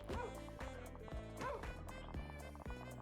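A dog barks in the video game Bone to Gather, several yipping barks mixed into loud, rhythmic game music with steady beats.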